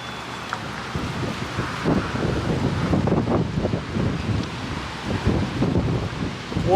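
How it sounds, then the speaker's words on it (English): Strong gusting wind buffets the microphone during a test drive of a 2025 Toyota Tacoma TRD Pro pickup, a steady loud roar with rumbling surges throughout and no talk. "What a windy day."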